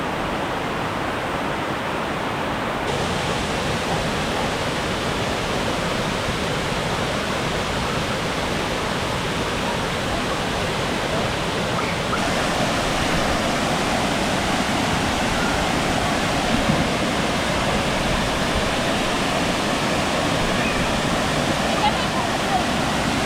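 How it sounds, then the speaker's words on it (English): A waterfall in Puerto Rico roars loud and close as a steady, unbroken wash of noise that covers the whole spread of sound, with voices faintly audible beneath it. "Waterfall."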